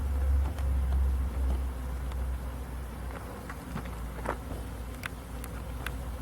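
A swarm of honeybees buzzes steadily during a swarm capture, a dense, continuous drone with a louder low hum at the start and occasional clicks and bumps over it.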